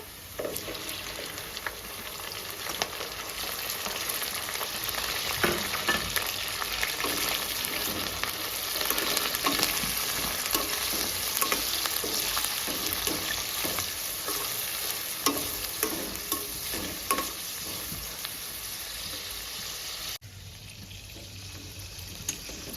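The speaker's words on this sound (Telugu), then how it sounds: "చూడండి తాలింపు బాగా ఫ్రై అయింది" Steady sizzling of a spice tempering frying in hot oil, with occasional stirring scrapes, continuous for a long stretch before it drops off abruptly near the end.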